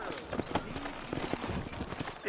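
Horse hooves clip-clop on the ground in Red Dead Redemption, a quick irregular patter of steps under a man's speech.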